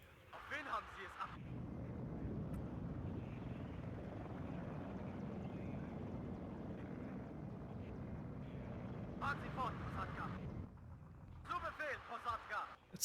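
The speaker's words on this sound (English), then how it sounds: "Let's try the cluster plane." A cluster-bomb plane strike in the strategy game WARNO: a long, steady low roar of aircraft and rumbling impacts fills most of the span, with short bursts of talk before and after.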